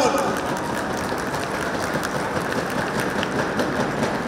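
A conference crowd gives loud, sustained, dense applause for Team Synergy and its sponsors.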